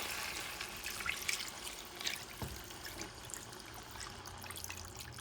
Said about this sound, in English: Now you start adding the broth